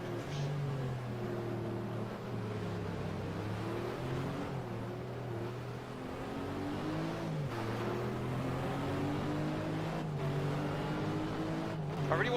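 A Lister race car's engine drones in a racing video game during an FIA GT round at Estoril, holding a steady mid-pitched tone with gear-change dips and rises throughout.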